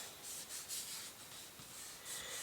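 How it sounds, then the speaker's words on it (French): Kraft paper is rubbed flat onto a card as it is glued down, giving a soft, steady swishing scrape in short strokes with a few brief pauses, close and fairly quiet. "Donc, je colle mon papier craft."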